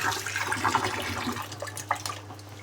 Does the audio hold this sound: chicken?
no